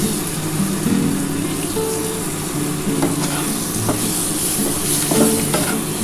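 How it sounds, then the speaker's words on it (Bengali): Chopped tomatoes sizzle and fry in a pan for a potato and egg curry, with a steady close hiss broken by scraping stirs of a spoon. No one speaks. "এবার আমি টমেটোটা দিয়ে দিলাম"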